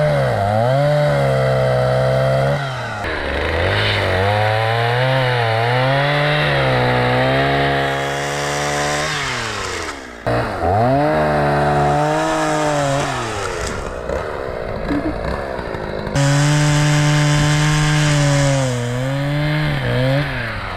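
Chainsaw cutting up a rotted plum tree, its engine droning loud and close with repeated pitch dips and surges as the bar bites into wood, running steadily throughout with brief bogs between cuts.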